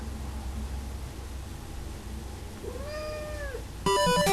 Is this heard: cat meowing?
yes